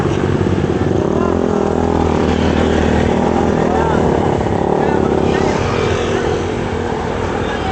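Yamaha Raider motorcycle passing on Marilaque road, a steady loud engine drone with rising and falling tone as it goes by, mixed with other traffic and wind.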